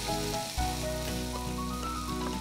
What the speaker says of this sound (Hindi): हाँ अब इसे अच्छे से भूनेंगे। अब थोड़ा सा लहसुन डालेंगे।